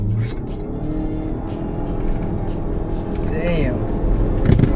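A Denza B8 SUV accelerates with a low, steady drive hum and road noise from inside the cabin, rising slightly toward the end, while people talk over it.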